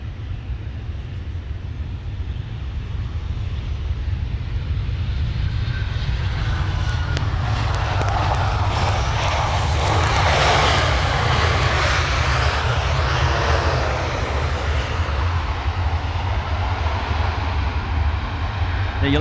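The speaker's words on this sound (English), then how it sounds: "This is Velocity 781, about to drop it in runway 15 from the north." A Velocity passenger jet lands on runway 15 at Cairns Airport, arriving from the north: a loud, continuous engine roar that swells toward the middle and stays strong throughout, with no talk.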